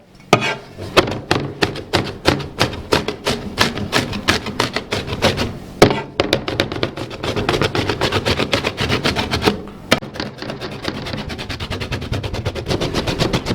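Rapid, rhythmic chopping of a two-handled crescent knife mincing chopped vegetables on a board, dense and sharp, continuing steadily with a brief pause midway.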